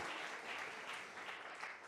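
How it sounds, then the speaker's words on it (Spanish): A church congregation applauds in praise to God during an afternoon service, a steady, dense wash of many hands clapping at a moderate distance, continuing without a break. "Fuerte ese aplauso a nuestro Dios en esta tarde."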